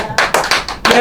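A church congregation breaks into bursts of clapping, four or five sharp waves of applause in quick succession, close and loud.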